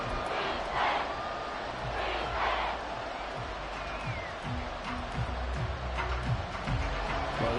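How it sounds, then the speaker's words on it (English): A stadium crowd in the Madden 24 football video game roars in a continuous, loud wash of cheering and chanting, swelling and ebbing with no break. "Well, this crowd is making an impact right now."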